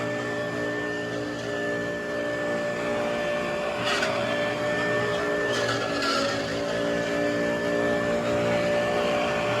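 White Westinghouse hand vacuum running alone, a steady droning motor hum with a thin high whine, close and constant throughout with slight fluctuations.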